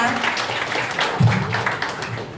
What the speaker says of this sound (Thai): ขอปรบมือดังๆอีกครั้งหนึ่งนะคะ ให้ทั้งครูโน้ตและก็ครูกวางนะคะ